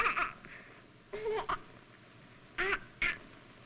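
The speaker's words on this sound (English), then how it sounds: "What's that? That's a seagull." A seagull sound effect in a 1946 radio mystery drama gives short squawking cries in two paired bursts, set against quiet studio background.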